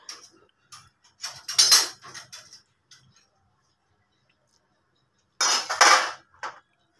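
A metal wok clanks and scrapes against a perforated plate in a home kitchen, in short clattering bursts with silent gaps, then a final burst of rattling near the end.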